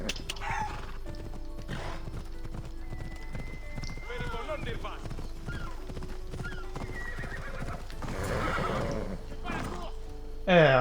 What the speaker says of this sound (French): Mon cheval ne veut pas sprinter, merci.